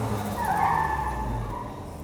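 FormulaG kart rounding the last barrel into the stop box at Coventry Motofest, engine droning with a brief tire squeal as it slides around the turn, no voices.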